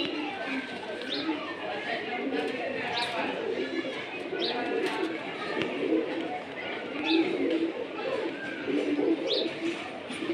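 Silver racer pigeons in breeding mood coo repeatedly and softly over a steady dense chatter of many birds in a loft, with no clear voice over them.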